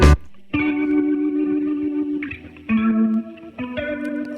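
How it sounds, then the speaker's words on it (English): Electric guitar played through a couple of amplifiers and many pedals on the Leslie Guitar rack preset, sustained swirling organ-like chords in several short phrases, stereo and effect-heavy with no talking. "the guitar tool rack preset called Leslie Guitar"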